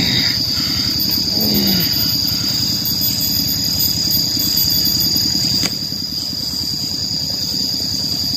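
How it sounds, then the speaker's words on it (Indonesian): A low, steady farm tractor engine chugs continuously in the distance, with a rhythmic mechanical throb and a constant high insect-like whine over it. "Traktor sawah kayaknya."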